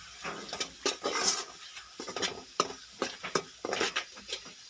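Meat for aloo gosht stirred in a pot with chilli and salt: a steady run of scraping, clattering spoon strokes against the metal over a soft sizzle, close and fairly loud, with no voices.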